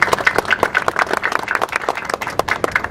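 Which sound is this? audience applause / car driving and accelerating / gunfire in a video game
audience applause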